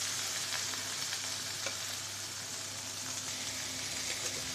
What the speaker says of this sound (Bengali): মাছগুলো কষিয়ে নিয়েছে